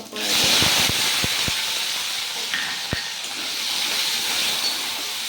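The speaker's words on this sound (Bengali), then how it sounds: "আলুটা সুন্দর করে আমি ভেজে নিব" Boiled potatoes go into hot oil with whole cumin seeds, bursting into a loud hiss with a few sharp spatula taps early on, then settling into a steady, close sizzle.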